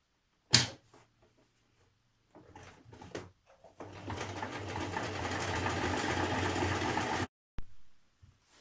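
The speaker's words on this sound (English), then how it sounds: "So now we're going to work our buttonhole." A domestic sewing machine stitches a buttonhole on a Simplicity 8652 skirt, starting with short bursts and a pause before settling into a steady, close whirring run of several seconds, then one last brief burst after it stops.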